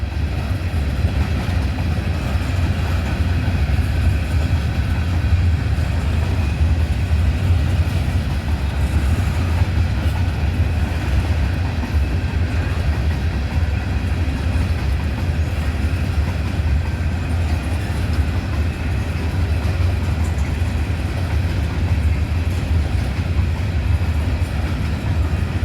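Freight train of railroad cars rolling past up close, a steady loud rumble with rail clatter lasting the whole stretch and no pauses.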